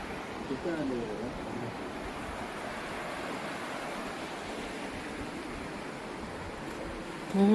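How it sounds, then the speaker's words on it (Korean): Rushing water near the Hickman Bridge trail in Capitol Reef, a steady, broad, continuous roar with no breaks, heard alone throughout. "물소리가 엄청 들립니다."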